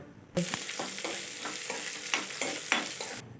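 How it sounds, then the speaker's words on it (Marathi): Sliced medium onion sautés in hot oil in a pan, a steady close sizzle with repeated scraping stirs every half second or so, no voices. "कांदा मस्त गुलाबी रंगावरती आपण तेलामध्ये परतवून घ्यायचा"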